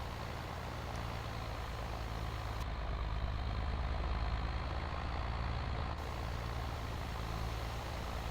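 Ford tractor with a sprayer in Farming Simulator 22, its engine running in a steady, continuous diesel rumble at an even level throughout.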